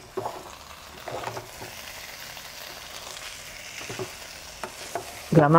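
Native country chicken varuval gravy reducing in a pan, with a continuous moderate sizzle and bubbling broken by scraping stirs and a louder knock at the end.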